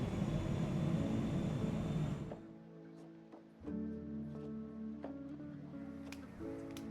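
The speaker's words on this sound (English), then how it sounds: "No, seriously, why is the jet doing flybys?" A jet roars past overhead in PowerWash Simulator, loud at first and then cutting off abruptly, leaving quieter in-game tones and soft clicks behind.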